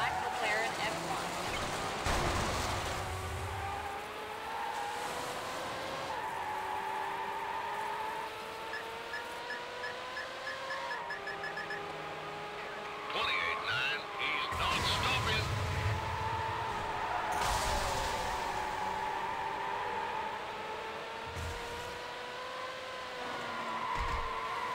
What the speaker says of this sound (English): 28 in high speed pursuit. Vehicle is a black McLaren F1.